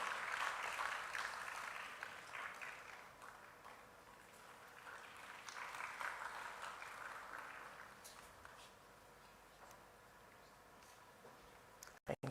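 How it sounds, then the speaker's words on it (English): Audience applause at a university patent workshop, a quiet round of clapping from a fairly distant crowd that rises and falls in waves before fading out, ending with a couple of sharp knocks. "Please give a round of applause."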